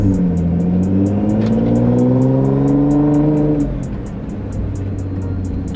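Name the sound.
car with HKS Legamax exhaust accelerating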